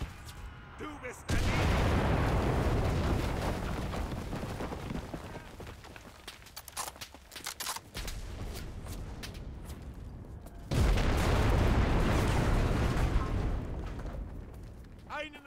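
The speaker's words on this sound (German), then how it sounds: "Ich rufe die Artillerie!" Artillery barrage in the video game Enlisted, Battle of Moscow at Vysokovo Village: loud, rumbling blasts and rolling booms pound on almost without a break, ease into a quieter stretch midway, then surge again. Voices come through over the shelling.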